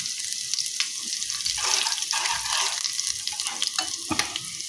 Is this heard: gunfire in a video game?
no